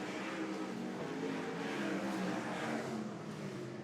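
Sprint cars race at Central Motor Speedway, a continuous, distant engine roar with a gently wavering pitch, steady and unbroken throughout.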